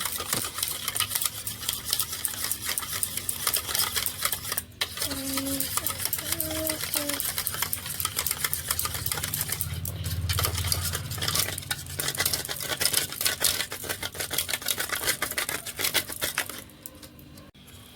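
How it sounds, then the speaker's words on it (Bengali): Eggs and sugar beaten together in a bowl for pudding, a steady fast clatter of a whisk or spoon against the bowl with scraping, continuous and close. "ভালো করে চিনিটাকেও ভালো করে ফেটবো ডিমের সাথে।"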